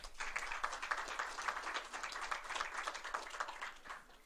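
An audience at a 2018 electoral oversight forum in Coahuila applauds, dense, even clapping heard from a distance and fairly faint, sustained for several seconds.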